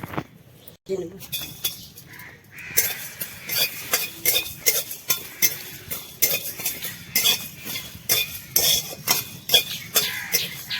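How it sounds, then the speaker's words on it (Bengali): Whole coriander, cumin, cardamom, cloves, cinnamon and dried chilli dry-roasting in a pan, with rhythmic scraping and clinking of a spatula stirring the spices, close and steady. "আমি শুকনা খোলায় একটা মশলা তৈরি করব সে গোটা ধনে জিরা আর একটু গরম মশলা এলাচ লবঙ্গ দারচিনি"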